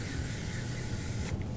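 A can of lavender-scented dry shampoo made for clothes sprays in a steady, continuous hiss for over a second before cutting off, close and fairly soft, with no voices.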